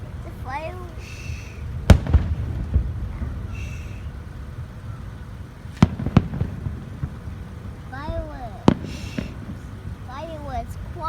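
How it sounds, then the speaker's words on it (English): Fireworks bursting at night in several sharp cracks and booms spread across the clip, with whistling rising tones between the blasts and people talking throughout. "The fireworks are loud."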